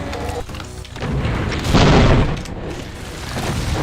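Gunfire and booming explosions from a Doom mod shooter game, with dense, continuous blasts layered over a loud, roaring mix that swells in the middle.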